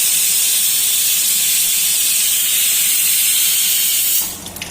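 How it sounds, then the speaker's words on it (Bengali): A pressure cooker whistles steadily while meat cooks inside, a loud continuous high hiss of escaping steam that holds for about four seconds before dying away into quieter kitchen noise. "সিটি পড়ছে, তাই মাঝে মাঝে কথা বলা বন্ধ করে দিতে হচ্ছে।"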